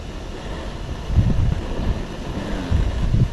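Wind buffets the microphone in low, gusty rumbles that swell and fade a few times, with no talking.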